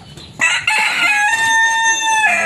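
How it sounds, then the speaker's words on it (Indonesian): An Ayam Cemani rooster lets out a loud, close crow, a sustained drawn-out call lasting about two seconds after a few short sounds at the start. "Ada ayam semani juga ada"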